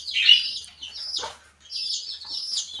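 A hen and her chicks call nearby: bright, high peeps and chirps come in short bursts with a brief gap, and a low cluck sounds once in between.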